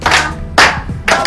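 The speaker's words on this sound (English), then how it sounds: "Everybody, clap for Mama." Family members clap their hands at a toddler's second birthday photo shoot, making three short, sharp bursts of applause close by.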